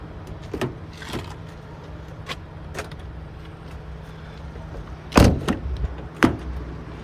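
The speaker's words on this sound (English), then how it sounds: "Power sliding doors." The power sliding door on a 2015 Toyota Sienna SE runs with soft motor whirring and several sharp mechanical clicks and clunks, including a louder latch thunk near the end, all heard close up inside a quiet vehicle.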